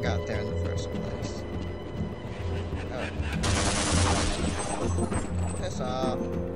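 Enemy gunfire in Half-Life, a dense burst of shots in the middle of the clip over steady game noise and background sound.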